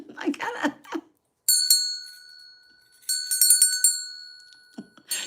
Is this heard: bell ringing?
yes